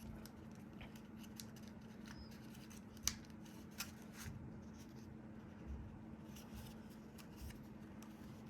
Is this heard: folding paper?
yes